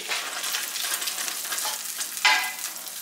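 Sausages fry in a pan with a steady, close crackling sizzle, and a sharper burst of spitting comes near the end.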